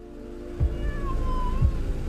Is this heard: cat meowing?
yes